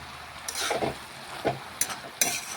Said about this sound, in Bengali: নাড়াচাড়া করিয়ে নিচ্ছি